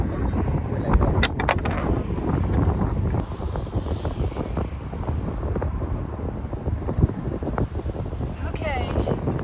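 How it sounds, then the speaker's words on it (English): Wind blowing over the ocean during a fishing trip, a steady buffeting rush across the microphone with faint clatter and voices under it. "The wind is gonna probably blow it really far."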